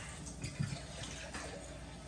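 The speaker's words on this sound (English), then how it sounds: "So now we're gonna take it, we're gonna add water to it." Water pours from a tap into a pot holding corned beef, a steady close rushing splash lasting about two seconds with a slight gurgle partway through.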